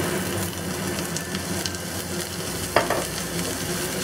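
Ginger, garlic and shallots stir-frying in a wok with seasoning salt and sesame oil, a steady close sizzle with a brief clatter of stirring partway through.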